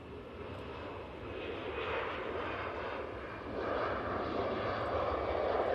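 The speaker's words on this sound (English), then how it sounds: "We've got this Aer Lingus now off to Dublin." An Aer Lingus airliner departs Manchester Airport for Dublin. A moderate, distant jet rumble builds gradually as it climbs away, alone with no voices.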